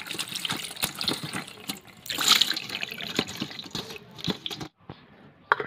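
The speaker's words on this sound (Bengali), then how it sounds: "এবার আমি পনিরটা ঠান্ডা জলে ভালো করে ধুয়ে নেব," Paneer rinsed under cold water in a kitchen: continuous running, splashing water close by with brief drips and gushes, steady for several seconds before it cuts off, with no voices.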